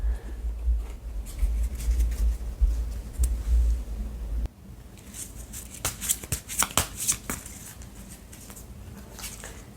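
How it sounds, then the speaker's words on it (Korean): Tarot cards are shuffled by hand in a quiet room, with soft riffling bursts and crisp flicking patters coming in uneven clusters, close and fairly faint, the later section sharper and more rapid. "이 천운이 언제 오게 되는지 시기 카드를 뽑아보도록 하겠습니다"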